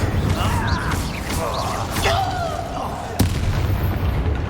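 Incendio fire spell cast in Hogwarts Legacy gives a booming, crackling burst with a sharp pop near the end, loud and close, under a swirl of game effects.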